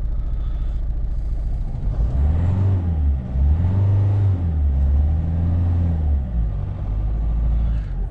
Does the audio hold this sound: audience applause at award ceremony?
no